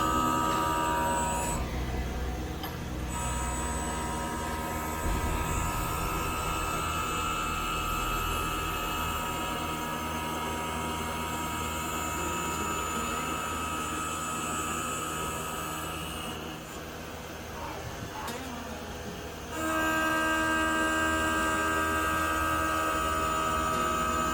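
A lathe spinning at a higher speed while machining EDC flashlights gives a steady, loud mechanical whir with a sustained tonal whine, dipping briefly twice before resuming. No talking.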